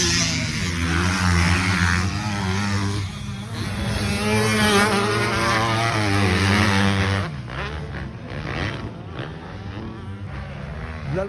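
Enduro motorcycles race past on the sand at the Enduropale beach race in Le Touquet, a loud engine roar swelling and shifting pitch as bikes pass close, then fading to a more distant, thinner drone.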